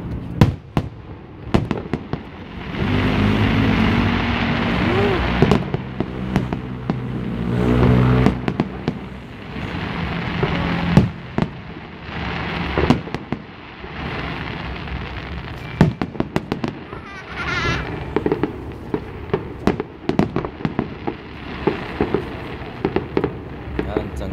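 New Year's Eve fireworks burst at the Janfusun Fancyworld theme park in Yunlin, Taiwan, in a long barrage of loud booms and sharp crackling pops that arrive in rapid clusters, with crowd voices and talk mixed in.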